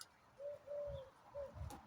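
A female pigeon coos softly in a few low, drawn-out notes, fairly faint against a quiet background.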